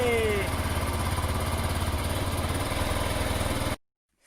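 An Aprilia Pegaso motorcycle engine runs in a test after a head gasket repair, with a steady, close, throbbing idle and a brief higher tone at the start, then stopping abruptly.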